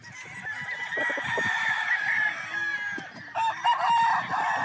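An early bird bloodline gamefowl rooster crows nearby, a drawn-out strained call with clucking and other fowl calling around it.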